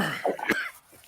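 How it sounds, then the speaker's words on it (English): A single close cough with a rough throat-clearing quality, brief and sharp, picked up by a nearby microphone during a livestream. "Oh, you coughed, couldn't get to the mute button in time?"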